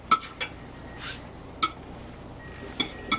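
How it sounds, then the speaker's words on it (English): A fork clinks against a dish while rolling a home-canned roast beef croquette in beaten egg: a few sharp, bright metallic taps spaced irregularly over quiet background, with no voices. "Grab your fork, roll it in the egg"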